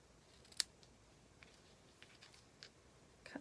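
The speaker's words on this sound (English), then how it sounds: "I'm going to take my paper snips" Paper snips cut card stock for a handmade card, giving a few sharp, quiet snipping clicks spaced irregularly across a near-silent background, with no talk.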